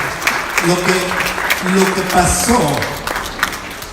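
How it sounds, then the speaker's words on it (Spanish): A church congregation applauds during a Resurrection service, steady clapping running throughout while a voice talks over it. "Denle un aplauso al Rey de Reyes y Señor de Señores"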